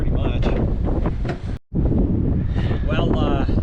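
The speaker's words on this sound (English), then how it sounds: "Windy. Pretty much." Wind blowing outdoors at about 5 degrees during cold-weather truck work, a steady loud rumble of gusts buffeting the microphone, with a brief drop-out midway before the roar resumes.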